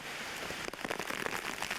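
Rain from Hurricane Bob in 1991 pours steadily over Mass Avenue, with a faint, even hiss of falling drops heard alone at a distance.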